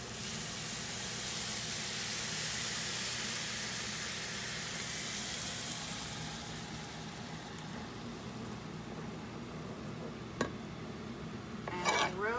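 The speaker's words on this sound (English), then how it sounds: "Then I will add the stock" Stock poured into a paella pan with calamari, a steady broad hiss and bubbling simmer that fades slightly over time, ending with a couple of clinks and scraping from the pan.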